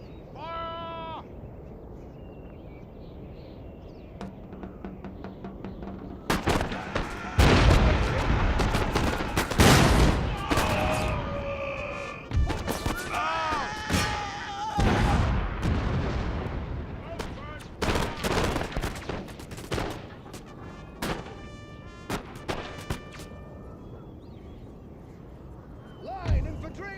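Line infantry in Empire: Total War loose ragged musket volleys, a dense run of loud cracking bursts. Shouted commands and voices sound over and between the gunfire.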